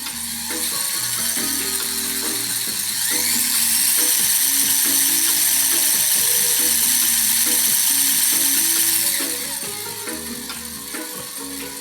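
A small motor spins a stone on a little pulley at low RPM on a model four-cylinder engine build, making a steady close whir with a busy rhythmic rattle that runs throughout and eases slightly near the end.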